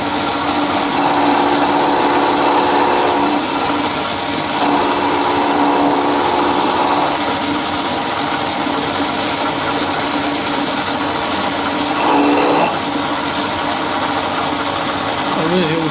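Die filer machine running steadily on a rotary table with a loose pinion, a loud continuous whirring hum with rattling vibration, faint changes in tone partway through.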